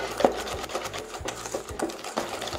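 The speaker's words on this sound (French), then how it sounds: "Vous mélangez à l'appareil beurre-sucre" Cookie dough being stirred into a creamed butter-sugar mixture in a bowl, giving a close, steady run of soft scraping and thumping strokes with no talking.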